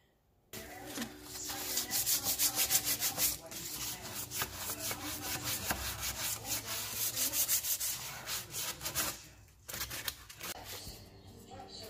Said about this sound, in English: I scuffed it up with some sandpaper, the smoothest grit I can get